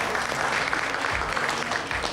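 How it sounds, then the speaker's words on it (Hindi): Studio audience applause on a Hindi TV drama set, a steady dense wash of clapping filling the whole short stretch at moderate loudness. "मारो तालियां।"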